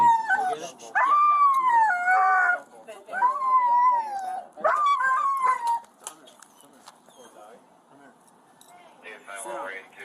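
Jinx the dog howls in long, wavering, rising and falling cries, repeated several times up close, then fades to quieter whimpers and rustling.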